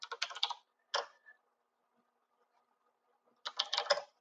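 A password is typed on a computer keyboard in a quiet room: a quick burst of soft key clicks, a lone tap, a pause, then another rapid run of keystrokes.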